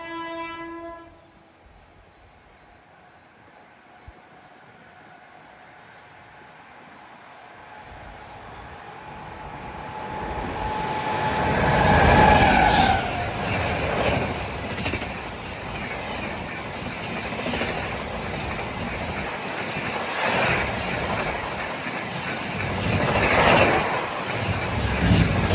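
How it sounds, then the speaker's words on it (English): The Chennai–Shirdi Weekly Express passing near Bengaluru, India: a distant horn blast first, then the train rumbling closer and louder, with wheel squeal around the midpoint and rolling clatter as the coaches go by. "Here comes another train. This is the Shirdi Express."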